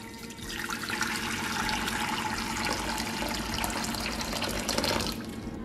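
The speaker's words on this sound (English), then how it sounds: "So now I'm just going to pour out some boiling hot water." Steady rush of boiling water pouring from close by, a continuous splashing stream with no voices, running for several seconds before easing slightly near the end.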